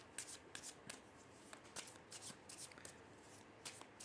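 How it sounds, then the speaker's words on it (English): A deck of tarot cards is shuffled by hand in a string of quick, crisp riffling bursts with short pauses between them, faint and close up, with no talking. "These cards also have been well shuffled."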